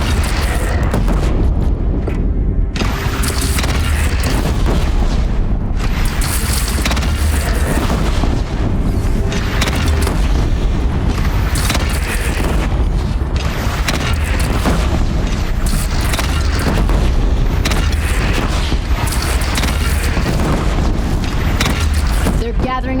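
Cannon fire and heavy explosions in the video game Horizon Zero Dawn, a dense, loud, continuous barrage of booms and rumbling blasts mixed with game effects throughout.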